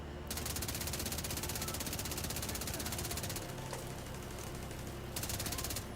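Suppressed assault rifle fire in The Division 2, long dense bursts of rapid muffled shots that nearly fill the stretch and break briefly once, with no talking.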